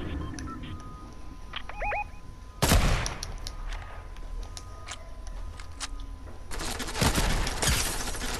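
Gunfire in Fortnite comes in sharp, loud bursts, one heavy shot followed by a longer crackling volley, with sparse game effects and faint chatter between them.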